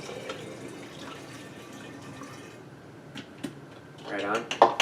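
Water pours through a funnel into an enema jug, a soft trickling splash rising near the end, close and fairly quiet.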